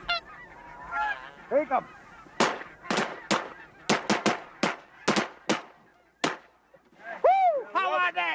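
Migrating waterfowl over the Rainwater Basins wetlands: geese honk loudly and nearby, broken by a rapid series of sharp shotgun-like blasts. Honking resumes afterward, and a brief spoken remark is heard.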